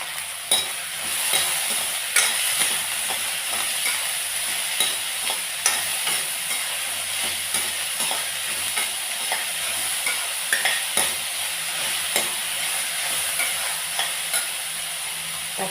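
Onions frying in a pan for tomato thokku: a bright, steady sizzle close by, with regular light clinks and scrapes from a stirring spoon every second or so and no talking.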